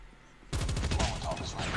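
A moment of quiet in the video game Call of Duty Mobile, then a gun opens up with fast automatic fire, a dense rattling burst of shots that continues to the end.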